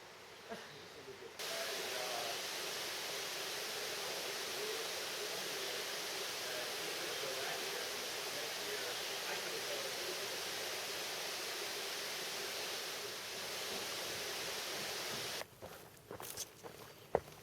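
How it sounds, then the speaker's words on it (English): Water runs steadily through a wooded area on a waterfall hike, a continuous broad rushing hiss heard up close with no talking, briefly interrupted by handling noises at the start and end. "Listen to all that water."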